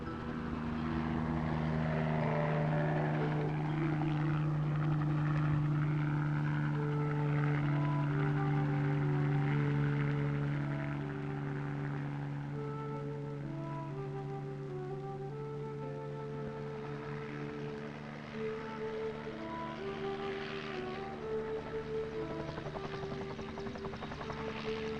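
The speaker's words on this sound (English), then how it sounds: "The helicopter lands outside CRA's main camp at Coboan" A helicopter flying near a mining camp, a sustained droning rotor and engine hum with steady tonal whine, loud at first and easing slightly as it continues, no speech.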